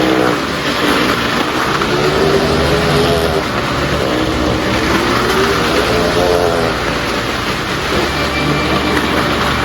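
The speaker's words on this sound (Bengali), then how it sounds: "দেখেন দুইজন ড্রাইভার একজন আরেকজনের হাত ধরে কীরকমভাবে এই কোয়ারির মধ্যে ড্রাইভিং করতেছে" Cars performing stunt driving in a quarry at an event, engines droning and revving steadily throughout at close range, with a constant loud mechanical roar and no speech.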